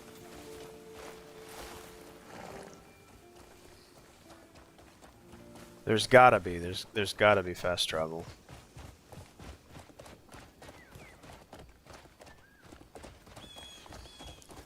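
Hoofbeats of a horse ridden in a video game clip-clop in a short loud burst midway, with someone talking over the game audio before and after.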